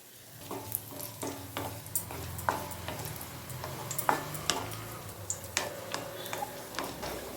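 Raisins frying in ghee, a low sizzle under a run of sharp, regular ticking taps from a spoon against the pan, no speech.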